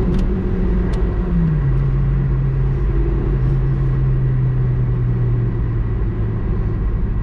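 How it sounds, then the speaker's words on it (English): A 1992 Citroen ZX 1.4i with 75 hp accelerating toward 100 km/h in third gear, a loud steady engine drone rising slowly in pitch, heard from inside the car without talking. "So you saw the acceleration on the third gear. I reached 100 kilometers."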